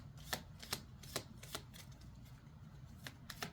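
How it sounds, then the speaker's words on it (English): A deck of cards is shuffled quietly, with a string of soft riffling clicks and flicks at an uneven rhythm against a low background hum. "Oh, and I've gone and shuffled them all crazy."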